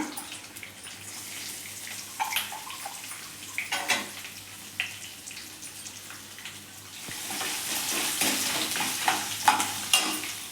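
Garlic paste sizzles in hot oil with curry leaves while being stirred, the frying hiss swelling louder near the end with scraping clicks of a spoon.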